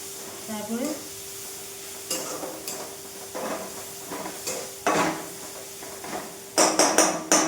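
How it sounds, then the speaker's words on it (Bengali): Chowmein is stirred and fried in a pan: a faint background sizzle is broken by several loud scraping and clattering strokes of a utensil against the metal, irregular and close, with a brief voice early on. "একটু ভাজা ভাজা হয়ে যায়"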